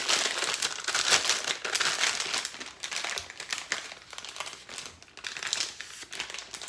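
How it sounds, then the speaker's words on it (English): Crinkling plastic pastry bag being handled and cupped open while filling with green icing for Halloween cupcakes, a steady close rustle and crackle running throughout with no talking. "I'm going to take a pastry bag,"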